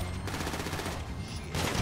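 Rapid gunfire pours into a trailer in GTA Online, a dense, continuous burst of shots that stays loud and close throughout the short moment without pause.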